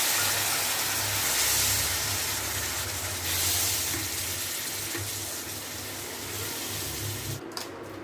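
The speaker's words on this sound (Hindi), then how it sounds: "कढ़ाई से जो धोए थे तो उसका पानी हम इसमें डाल देते हैं" Washing water from a wok is poured into a pan while cooking stuffed eggplant, a steady, close rushing splash that runs for several seconds and stops abruptly at the end.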